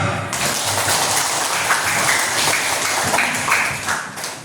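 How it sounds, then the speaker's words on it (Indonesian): Students at a school orientation session break into applause for a police chief's talk, a dense close burst of clapping that fills the whole stretch and eases off slightly at the end. "Tepuk tangan."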